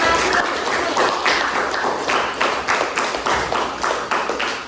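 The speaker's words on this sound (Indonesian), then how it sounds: "Silakan tepuk tangan dulu untuk kita semua" Schoolchildren in an Indonesian classroom clap together after group presentations, a dense, close round of applause with some rhythmic, slightly unified beats running throughout.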